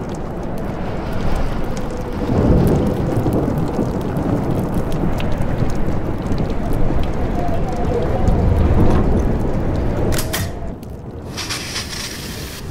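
Steady rain and storm rumble fill a stormy town scene in Life is Strange, a dense continuous wash with low swells, loud and close, broken near the end by a brief shift in texture.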